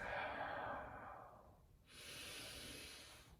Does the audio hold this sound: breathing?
yes